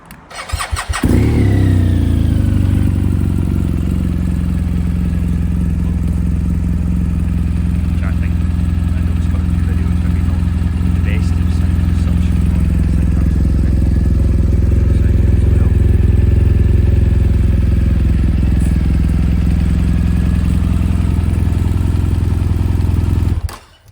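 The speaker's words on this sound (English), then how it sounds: "I'm just going to start the bike just now, and you hear this exhaust sound" A 2018 BMW R1200 GS motorcycle starts and settles into a loud, close idle through its exhaust, a deep steady rumble that holds evenly for the full run before cutting off at the end.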